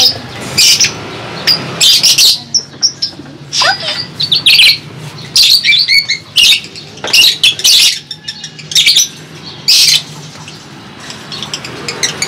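African lovebirds kept at home chirp and squawk in sharp, loud bursts close by, with short gaps between calls and occasional wing flutters.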